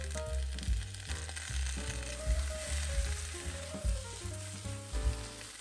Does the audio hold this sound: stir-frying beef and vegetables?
yes